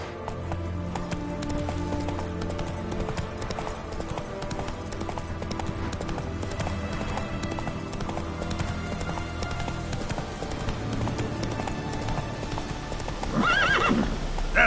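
Roach the horse from The Witcher gallops with steady, close clip-clop hoofbeats under dense game ambience, and a loud whinny breaks out near the end.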